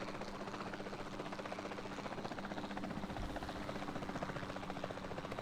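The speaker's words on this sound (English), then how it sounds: "I'd be wonderful at flying a helicopter." A helicopter in the video game Jurassic World Evolution 2 gives off a steady, continuous rotor drone with a fine chopping texture at moderate level, alone with no talking.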